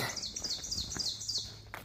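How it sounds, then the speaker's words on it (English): A bird sings loudly and close by on the Appalachian Trail, repeating a bright series of rapid descending chirps throughout, with soft wind and trail ambience underneath. "Wow, that bird was pretty and loud."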